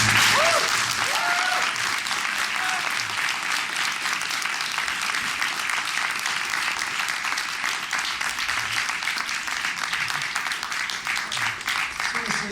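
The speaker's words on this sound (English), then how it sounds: "let's give Chris Jericho a huge round of applause" An audience at a 2007 book signing event breaks into sustained, dense applause that stays loud and steady throughout, with a few voices rising briefly near the start.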